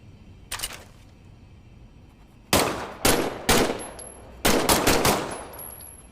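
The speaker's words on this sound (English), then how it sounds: "why don't you test fire your weapon?" Test shots from a weapon in the VR game Medal of Honor: Above and Beyond: a faint early pop, then several loud, close single and double shots spaced about a second apart, with brief metallic pings after.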